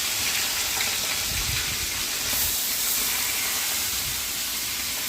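Fish sizzling steadily in hot oil for a Bengali fish curry, a continuous close hiss and spatter with no pauses and no voices.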